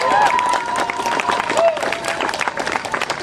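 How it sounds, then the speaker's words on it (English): A crowd at the Kelowna Freedom Fest applauds, dense clapping that fills the whole stretch at steady loudness, with a few voices and whoops rising above it. "I'd like a great big round of applause for Ryan for setting this up."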